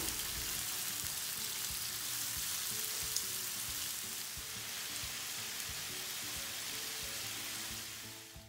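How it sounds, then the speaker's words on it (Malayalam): Masala-coated prawns shallow frying in hot coconut oil over a medium flame, a steady dense sizzle held at close range for the whole stretch, with faint scattered crackles and a slight fade at the end. "വെളിച്ചെണ്ണ ചൂടായിട്ട് വരുമ്പോൾ നമ്മൾ മസാല തേച്ച് വെച്ചിട്ടുള്ള ചെമ്മീൻ ചേർത്ത് കൊടുക്കുക."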